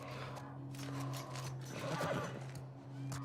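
A horse in the video game The Last of Us Part I neighs and whinnies quietly over a low steady hum, with a faint shuffle of hooves around it.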